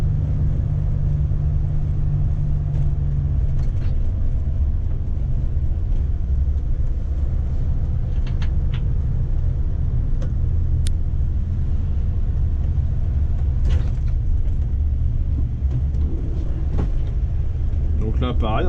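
Steady deep engine rumble of a VDL Bova Futura HD coach driving through tight bends, heard from inside the cab, continuous and loud with someone talking at times over it.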